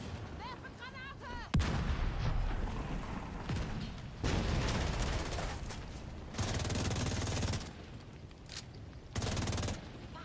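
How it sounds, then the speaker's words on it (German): Gunfire and explosions in Division 2, with a sharp blast near the start followed by bursts of heavy firing that come and go, loud and close, with voices underneath. "Werfe Granate!"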